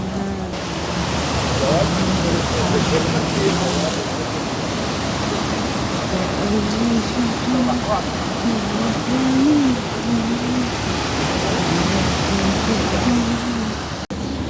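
Strong, high sea waves crash along the Ain el-Mreisseh corniche in Beirut on a rainy day, making a loud, steady roar of surf and spray that fills the whole stretch without pause.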